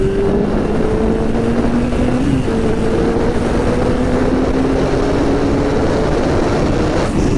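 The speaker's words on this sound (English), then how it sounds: "I just spun the back tire in first gear." RoadRunner Pro electric bike spinning its rear tire in first gear, a steady motor whine rising slowly in pitch over continuous road and wind roar, close and loud with no talk.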